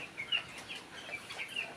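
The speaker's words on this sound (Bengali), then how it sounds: "এই দেখেন ছোট মুরগি" Small chickens on a poultry farm during hot weather cluck and cheep faintly from a distance, several birds overlapping in irregular short calls.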